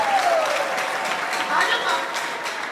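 Church congregation applauding, a dense wash of clapping that stays steady throughout, with faint voices and a tonal sound mixed in underneath.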